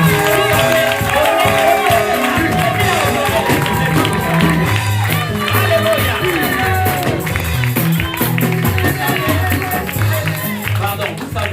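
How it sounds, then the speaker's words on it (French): A church congregation cheers and claps in a continuous, loud crowd wash, mixed with music and a speaking voice. "J'aimerais que vous acclamez pour son époux"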